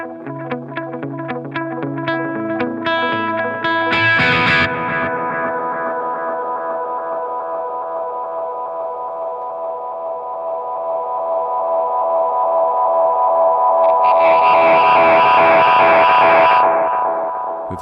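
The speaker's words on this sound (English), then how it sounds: "where the repeats then get repeated and everything goes crazy and mental and beautiful" A Holy Era tap tempo delay pedal driven into self-oscillation: a few guitar notes give way to a swelling, smeared wash of repeating echoes that builds and climbs in pitch, loud and sustained with no voice.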